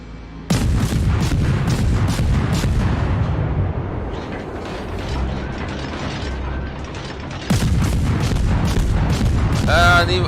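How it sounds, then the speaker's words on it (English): Naval gunfire from the German Tier II cruiser Dresden in World of Warships, a run of sharp booming salvos with mechanical clanks, a quieter stretch, then another burst of shots near the end. "I can keep firing even though my shells haven't even landed yet"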